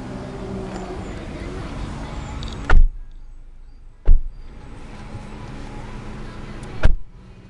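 A 2010 Nissan Sentra on a test drive: steady engine and road noise fills the cabin, then drops to a quieter hum broken by three sharp, close thumps spaced a second or two apart.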